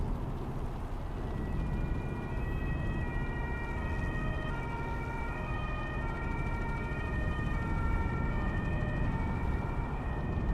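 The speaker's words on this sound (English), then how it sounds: "it's alarm in Italy with the police, the French sirens" Police sirens in Euro Truck Simulator 2 wail with steady rising and falling tones, loud and continuous over a heavy rumble of truck engine and road noise.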